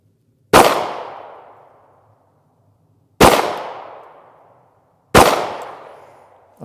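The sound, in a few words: rifle shots fired during shooting practice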